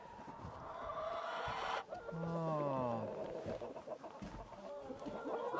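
Chickens cluck and squawk inside a snowy Upper Michigan coop, close and fairly loud, with rising and falling calls overlapping through the clip and a brief exclamation from a person.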